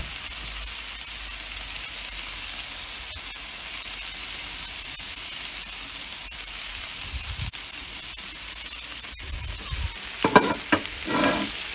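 Food sizzles steadily over South African black wattle charcoal, a continuous close hiss with a few faint clicks, then louder crackles and spits near the end.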